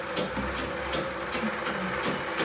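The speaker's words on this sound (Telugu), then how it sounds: "కొత్త మిషన్ స్టార్ట్ అయిపోయింది." A brand-new pico machine, still unoiled and running tight, gives off a steady, rhythmic mechanical clatter with evenly spaced beats that sound close and moderately loud, with no talking.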